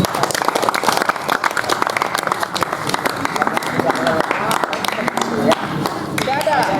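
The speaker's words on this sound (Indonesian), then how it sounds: "silakan tepuk tangan dulu" A crowd applauds with dense, continuous clapping, loud and close, while a voice speaks faintly underneath.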